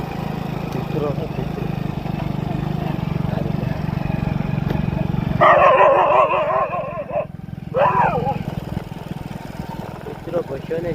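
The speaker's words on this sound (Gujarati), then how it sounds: "કૂતરો ભસ્યો ને" A dog close by barks and yips in a short burst of several calls over a steady vehicle engine rumble on the road to a school.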